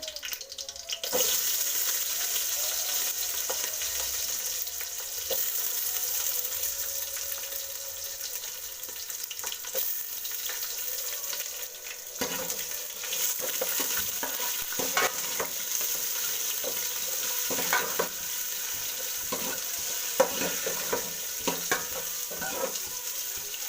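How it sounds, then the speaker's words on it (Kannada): Red chillies and onion fry in oil for dal, a steady close hiss of sizzling over more than twenty seconds, broken by frequent scrapes and stirs as the pan is worked, with no speech. "ಈರುಳ್ಳಿ ಚೆನ್ನಾಗಿ ಫ್ರೈ ಆಗಬೇಕು"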